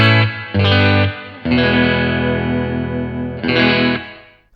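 Squier Telecaster electric guitar played through an amp set for moderate overdrive with reverb, loud sustained distorted chords and riff phrases in several bursts with short gaps, ringing out at the end.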